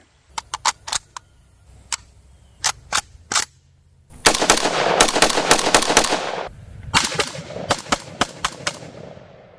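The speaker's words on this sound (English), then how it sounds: "it's going to be just 7 shots. The Valmet M76 and 223." Valmet M76 rifle chambered in .223 firing seven shots at an outdoor range, sharp loud cracks spaced in an irregular rhythm, with a dense burst of reports and echoes in the middle.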